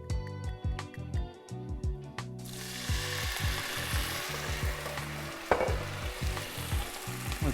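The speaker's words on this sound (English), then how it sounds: "Saute this one a little high." Meatballs in a pan with red wine sizzle steadily and close, with a rhythmic ratcheting clatter of stirring or turning at the start.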